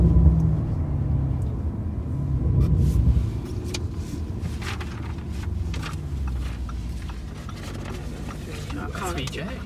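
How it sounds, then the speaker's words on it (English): A car with a 4-litre V8 twin-turbo engine of 650 horsepower drives along with a low, continuous engine rumble and road noise inside the cabin, while someone talks over it. "That's a 4-litre V8 twin turbo. 650 horsepower."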